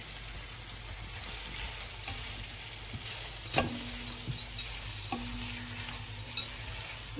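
Onions frying in a pan for a lamb chop curry, a steady close sizzle with occasional stirring scrapes and light clinks of a utensil against the pan, no voices.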